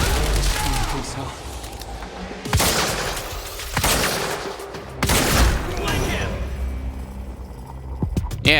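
Gunfire in the video game Quantum Break: several sharp, loud shotgun-like blasts ring out a second or so apart amid combat ambience, with shouted voices around them.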